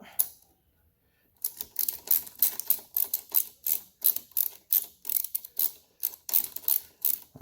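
A ratchet wrench backs two bolts out of the handlebar mount on a Can-Am Ryker. Close, crisp clicking comes in quick rhythmic bursts after a brief quiet start, with no talking.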